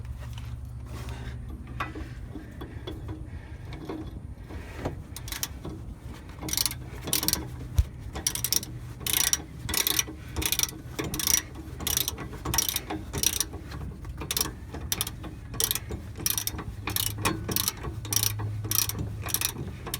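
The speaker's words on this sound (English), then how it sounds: "Let me grab the ratchet." A hand ratchet tightening a front shock bolt on a Kenworth T660 truck clicks in rapid, steady bursts of pawl ticks, close and loud, with brief pauses between strokes.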